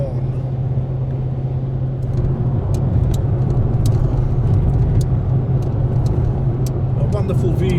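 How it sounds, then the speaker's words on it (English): Mercedes-Benz AMG E55 driving on an Australian country road, a steady, loud cabin drone of engine and road rumble running continuously, with a low hum beneath and small ticks and rattles. "Wonderful vehicle built by Mercedes-Benz and then taken over by AMG."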